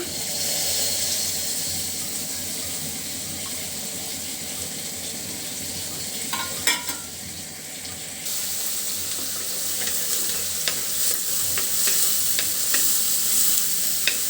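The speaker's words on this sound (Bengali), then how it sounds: "পেঁয়াজটা খুব ভালো করে ভাজি করে নিব।" Chopped onions sizzle steadily in a hot pan, a broad constant hiss with occasional scraping stirs and light clinks, no voices.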